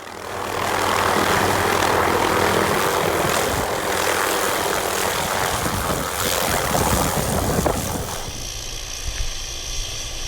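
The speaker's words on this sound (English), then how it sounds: "Due to the lighter load and slightly less winds, they were able to land on the heli deck." A helicopter lands on a heli deck in New Zealand, its engine and rotor roaring loud and steady throughout, with the tone shifting near the end as it settles.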